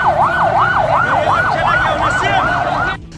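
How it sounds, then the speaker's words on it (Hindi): An ambulance siren wails, rising and falling in steady, rapid cycles, loud and close over a low road rumble, then cuts off abruptly near the end. "पूरे इलाके में सायरन की आवाज गूंजने लगी"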